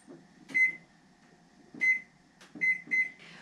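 Oven control panel beeping while being set to preheat to 400 degrees, several short electronic tones in a quick irregular series, close and fairly quiet in a kitchen.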